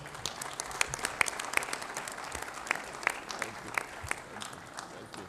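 Scattered audience clapping at a football confederation general assembly after an election result, fairly quiet and sparse with distinct individual claps over a soft room background.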